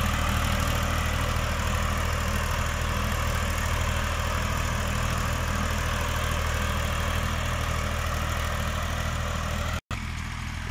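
A heavy diesel tractor engine drones steadily and loudly close by while pulling an MB plough through hard soil, a constant low rumble with no letup, briefly cutting out for an instant near the end.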